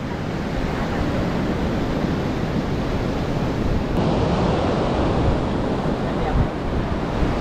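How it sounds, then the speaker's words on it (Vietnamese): Big Atlantic Ocean waves breaking on a beach in Luanda, Angola, a continuous loud surf roar mixed with gusty wind buffeting the microphone, steady and close for the whole stretch. "Sóng to. Nghe sợ luôn."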